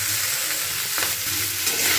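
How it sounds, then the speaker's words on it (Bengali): Pumpkin and potato fry in a hot pan with a continuous sizzle, while a spoon stirs them with soft scraping strokes close by. "কিছুক্ষণ এটাকে আমি ভাজা ভাজা করে নিচ্ছি।"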